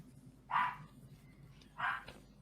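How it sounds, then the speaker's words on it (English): A pet dog barks twice in a home, two short moderately loud barks about a second and a half apart over a faint room hum. "That would be my dog."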